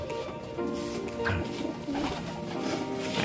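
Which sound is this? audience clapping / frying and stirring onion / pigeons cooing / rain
pigeons cooing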